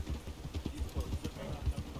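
An agitated horse in the video game Red Dead Redemption 2 stamps and trots, its hooves thudding in an uneven rhythm close by while talking runs underneath.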